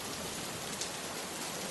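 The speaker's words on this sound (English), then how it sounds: "The rain didn't pass like a shower. It poured so hard that it became difficult to see in front of me." Heavy rain pours steadily across open fields, a dense, continuous hiss of downpour with no breaks, close and enveloping.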